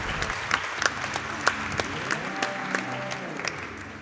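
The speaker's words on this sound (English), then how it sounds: "I'll clap for that." Audience applause at a Summer Games Done Quick 2017 speedrun event, a steady crowd of clapping with sharper individual claps standing out, moderately loud and close, lasting the whole stretch.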